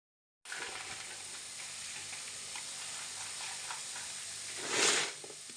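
Masala spices roast in a pan for a mango recipe, giving a steady quiet sizzle with faint stirring scrapes and a brief louder hiss near the end.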